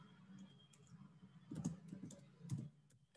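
Computer mouse and keyboard clicks during work in UiPath Studio, a few soft, sharp clicks spaced apart over a faint background hum.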